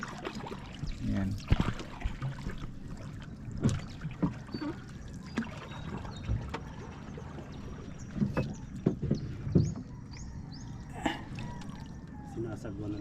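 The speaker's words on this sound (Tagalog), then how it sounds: "Sinasagwanan ko lang ito pag di mahal." A small boat paddled on clear sea water, with splashes and water swishes at irregular intervals against wind noise, while someone talks over it.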